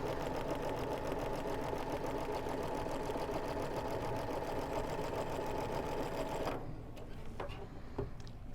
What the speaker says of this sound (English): lower my presser foot, and once again I'm still looking at this red line, and I will sew.